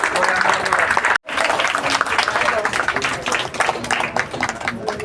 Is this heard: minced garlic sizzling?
no